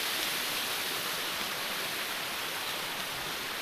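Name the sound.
rushing river water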